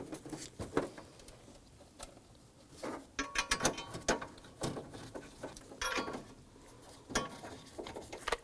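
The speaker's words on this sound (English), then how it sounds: "let's go ahead and snug everything down" Hardware being tightened by hand in the cargo area of a 2003-2014 Volvo XC90: a series of close, irregular metallic clicks, ratcheting taps and rattles with short pauses between, no voices.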